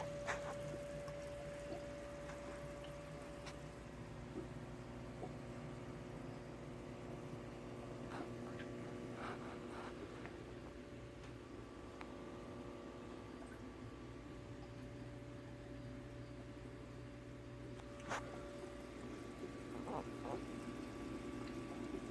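A sump pump circulates water back into the filter of a crystal system, a faint steady hum with a soft watery wash and occasional small clicks, close by and continuous.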